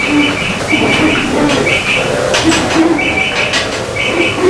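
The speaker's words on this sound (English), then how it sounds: "Do you hear the owls?" Repeated soft owl hooting calls sound over a constant, noisy rumbling background at the Magic Kingdom, coming in short evenly spaced phrases at a moderate distance.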